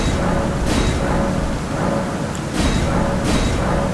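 Steady heavy rain pours in Elden Ring, brought on by a talisman, with a few sharp thunder cracks breaking through the constant hiss.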